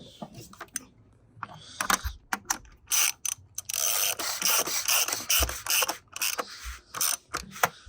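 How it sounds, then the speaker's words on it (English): A hand ratchet tightens the oil filter housing on a 2.15 CDI OM651 diesel in a Mercedes C220, with bursts of rapid clicking and mechanical clatter between short quiet gaps, close by. "I'm going to get my ratchet."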